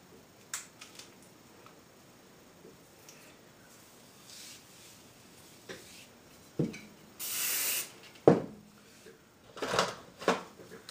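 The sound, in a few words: hairspray being sprayed on hair sections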